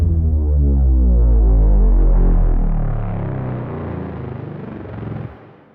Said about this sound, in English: Sometimes you might hear it called a boom, a downer, of course.